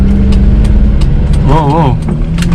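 A Toyota Kijang LGX pulls away in second gear, its mid-pitched engine droning steadily up close, with a voice briefly talking over it midway.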